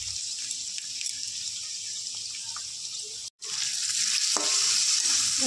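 Crushed cardamom and whole spices such as cinnamon and black peppercorns, with raisins, cashews and peas, fry in a pan with a steady, bright sizzle, broken by one brief silence, then resuming slightly louder.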